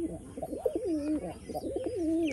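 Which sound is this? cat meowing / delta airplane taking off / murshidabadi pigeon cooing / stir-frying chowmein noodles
murshidabadi pigeon cooing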